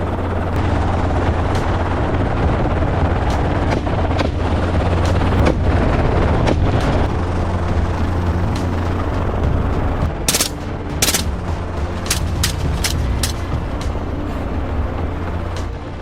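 A Robinson-type helicopter, such as an R-44 or R-66, flies steadily throughout during a wild boar hunt. Its loud, constant rotor and engine roar runs under sharp bursts of rapid gunfire.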